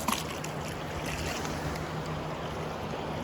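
Rushing river water, deep and fast-moving, at Castle Rock makes a dense, steady broadband roar throughout, with no voices over it.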